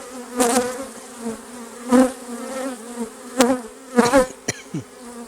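Honey bees buzz loudly around an open hive during an inspection, with repeated swells of close, droning wingbeats rising and falling over a steady hum.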